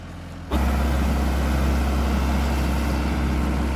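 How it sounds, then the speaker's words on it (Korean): A tractor hauls away harvested organic beets, its heavy diesel engine rising sharply and then rumbling on at a loud, steady drone close by. "드디어 트랙터가 싣고 가고 있어요"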